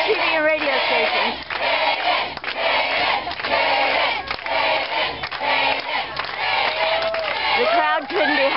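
An excited crowd mobs around Cayden, many voices shouting and whooping at once in repeated bursts, with scattered clapping under a dense, chaotic roar.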